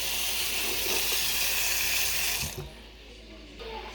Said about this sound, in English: As the water is boiling, then I also proceed to wash my organic fresh sweet vegetable.